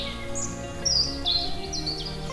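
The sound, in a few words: birdsong in the forest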